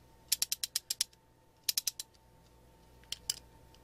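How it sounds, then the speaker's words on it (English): Antique Armstrong SAB-51 ratchet socket wrench clicking close up: a quick run of about seven crisp clicks, a second burst of four, then two more, with quiet gaps between. "This is a ratchet wrench,"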